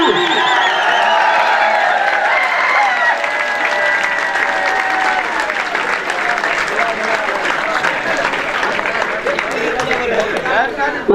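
Audience applause at a school's annual farewell party for tenth-grade boys, a loud sustained crowd clapping for the whole stretch with voices and musical tones mixed in beneath.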